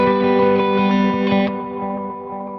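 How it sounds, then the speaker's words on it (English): Clean electric guitar played through a VOX StompLab modeling processor preset with reverb, delay and tremolo, sustained chords ringing with a pulsing wobble and trailing echoes that fade out over a couple of seconds, alone and fairly loud. "So that is a more clean sound with a reverb, a delay and a tremolo."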